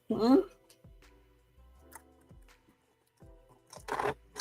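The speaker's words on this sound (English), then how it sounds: "After I get to eating these jalapeno chips, I'll chew a piece of my sugarless gum." Jalapeno chips are crunched while being eaten, heard close to the mouth as a few sharp, brief crunches spaced apart, with a short burst of voice at the start and quiet gaps between bites.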